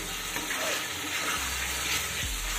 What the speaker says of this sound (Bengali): দেখো পনিরটা দিয়েও কিন্তু আমি 1 মিনিট মতো কষিয়ে নিয়েছি